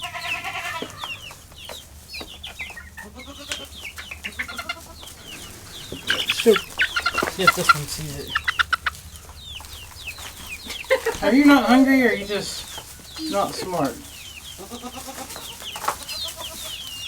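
Several chickens cluck and cackle close by in uneven bursts, louder in the middle, while a person talks over them.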